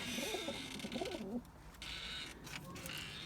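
Pigeon cooing in a loft, a series of low throaty coos at close range for over a second, then fading into outdoor background noise with a few faint bird sounds.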